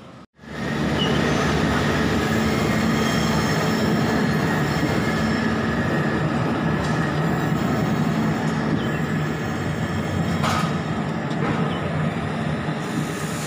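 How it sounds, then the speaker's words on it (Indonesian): Pangrango passenger train arriving at Bogor station, a steady loud rumble of rolling wheels and carriages with faint squeals, continuous and close throughout. "Kereta api Pangrango datang dari stasiun Bogor."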